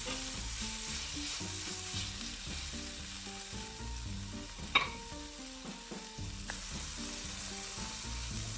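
Chopped onion sizzles steadily in a hot frying pan, a continuous close crackle and hiss with a brief sharp clink of a utensil partway through, no voices.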